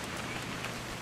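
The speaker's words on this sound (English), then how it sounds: "It's gonna rain the whole weekend, isn't it?" Steady rain pours down in the game What Remains of Edith Finch, a dense, even hiss of drops hitting surfaces with no let-up across the second.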